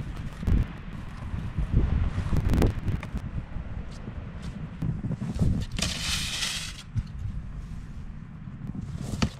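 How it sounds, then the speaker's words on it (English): Gusty wind buffeting the microphone in low rumbling bursts, with a stronger hissing gust partway through. "it's kind of windy"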